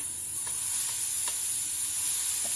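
Grated Indian gooseberry (amla) and ginger sizzling in a hot pan, a constant bright hiss with a few light stirring taps.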